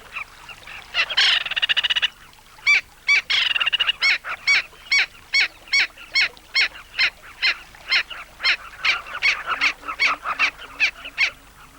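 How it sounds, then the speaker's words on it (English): A giant kingfisher calls loudly in annoyance, a long run of harsh, evenly spaced rattling notes repeated in a steady rhythm, close and clear with no talk. "Our kingfisher proclaims its annoyance very loudly."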